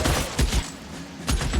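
Sniper rifle shots fired by Widowmaker in an Overwatch-style shooter, three loud sharp blasts in quick succession, near and punchy, with decaying tails between them.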